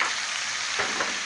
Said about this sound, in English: let's look at this chicken. It's frying.